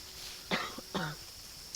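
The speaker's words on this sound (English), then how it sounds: "Forgive our coughing, we're both getting over head colds here." Two short, sharp coughs from a person getting over a head cold, close by, spaced about half a second apart, with a faint third rasp trailing after, against quiet room tone.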